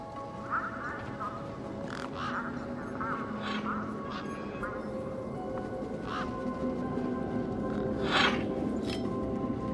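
Ducks quacking among the tough desert birds of the video game Beyond a Steel Sky, several short calls scattered through a steady murmur of background sound, with faint voice-like tones mixed in.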